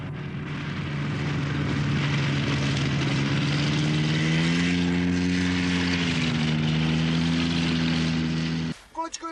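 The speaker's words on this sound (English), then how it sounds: "the aircraft must land at a high velocity, up to 120 kilometers, 75 miles per hour" Propeller aircraft landing on a Himalayan airstrip in the Annapurna region, a loud steady engine drone with a slight pitch shift, then an abrupt cut near the end.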